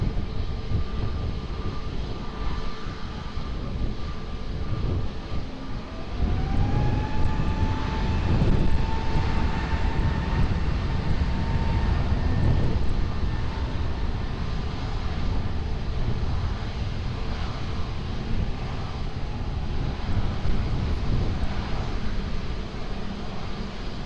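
A jet airliner taking off from runway 20 at Lisbon Airport, a loud sustained engine roar with rising whine tones that swells and holds steadily throughout.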